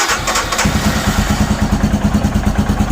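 A Royal Enfield Himalayan single-cylinder motorcycle idles at about 1500 rpm during carburetor tuning, a loud, close, steady low thumping chug with rapid regular pulses and no talking.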